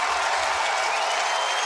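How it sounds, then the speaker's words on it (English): A baseball crowd at an Iowa versus Oregon State game cheers and applauds in a dense, continuous roar of clapping and shouting, loud and close. "Crowd on their feet."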